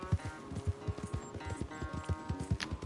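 Horse hooves clip-clop at a steady walking rhythm in Red Dead Redemption 2, close and fairly quiet, with regular low thuds repeating throughout under a faint background ambience.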